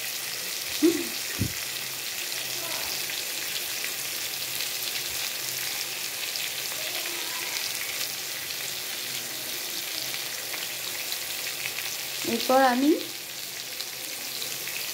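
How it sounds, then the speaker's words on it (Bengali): Pointed gourd (potol) pieces fry in oil with a continuous close sizzle and bubbling, with a few utensil knocks and a brief spoken phrase near the start. "পটলগুলো আমার কি সুন্দর লাল লাল হয়ে টকবক টকবক করে ভাজা হচ্ছে।"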